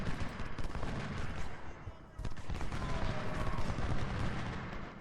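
Musket volley gunfire rolls across a Civil War battlefield in the strategy game Ultimate General: Civil War, a dense, continuous crackle of many rifles at a distance with a brief lull before the firing swells again.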